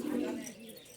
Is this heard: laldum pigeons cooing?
yes